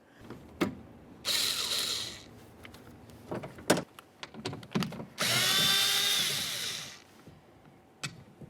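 Power drill backing out three T20 Torx screws holding the rear power window motor in a 2006-2012 Ford Fusion door, several loud whirring bursts of a second or two between clicks and handling knocks, with no talk.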